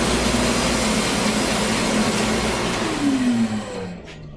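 A bandsaw cuts wood while a shop vac pulls away the dust, making a loud steady whirring roar that winds down with a falling pitch near the end; no one speaks.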